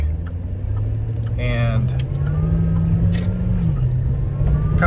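A Hummer's engine drones low and steady while it drives through stop-and-go traffic, with a slight rise in pitch partway through. Someone talks briefly over the hum.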